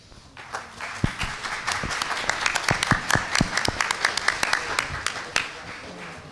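An audience at a Miami District 2 candidate forum applauds, a dense wash of clapping hands with sharp individual claps standing out, steady for several seconds and then thinning toward the end.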